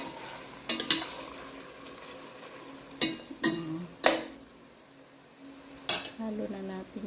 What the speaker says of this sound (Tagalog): Halo na natin yung malagkit at luto